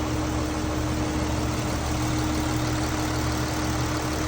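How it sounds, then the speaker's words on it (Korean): A Kia Mohave car engine idling during an engine oil flush, a steady, even low hum with a faint constant whine, close and unchanging, no voices. "시동 걸고 15분 세척."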